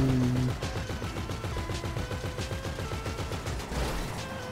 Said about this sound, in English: Let me shoot the barrels.